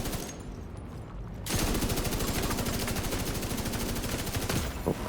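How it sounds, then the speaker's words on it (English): Rapid automatic gunfire in The Division 2, a sustained, loud stream of closely spaced shots that starts after a brief lull and runs steadily to the end. "I want to keep shooting just to make sure we're building stacks."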